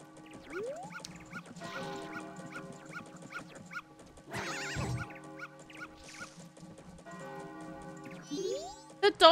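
Game dog in Legend of Zelda: Majora's Mask, Clock Town, barking and attacking amid chiptune-like game music and effects, with short yips and a hit sound standing out near the end, moderately loud.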